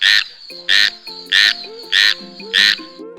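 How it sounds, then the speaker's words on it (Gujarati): Five loud, evenly spaced frog croaks, each a short harsh burst repeating about every 0.6 seconds, close and clear over a soft background tone, with no talking. "દેડકો ડ્રાઉં ડ્રાઉં કરે"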